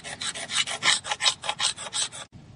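A hand tool rasps across a stone sculpture in a workshop, a rapid series of about a dozen scratchy strokes, close and loud, stopping abruptly near the end.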